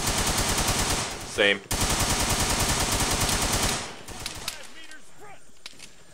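Gunfire in the military shooter game ARMA 3 during a jungle firefight: loud, rapid automatic bursts nearly without pause for about four seconds, then a few scattered, quieter shots, with voices talking over the action.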